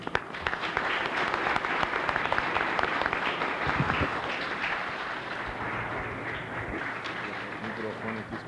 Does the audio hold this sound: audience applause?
yes